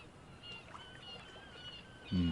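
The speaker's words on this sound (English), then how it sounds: "There's too many seagulls here in Barovia." Seagulls cry as an ambient sound effect, faint high calls drifting over a soft watery background, ending with a sudden louder low-pitched thump.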